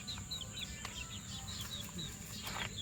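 Gamefowl chickens, White Kelso, black bulik, talisain and cobra, chirping and clucking in a pen in steady high repeated calls over a constant low background hum.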